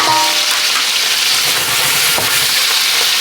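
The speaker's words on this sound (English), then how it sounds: "Now you want to get the onion on top of them. Get that nice popping going on." Onions fry on top of Texas red hot sausages in a hot pan, giving a loud, dense, continuous sizzle with scattered pops and crackles up close, with no talking.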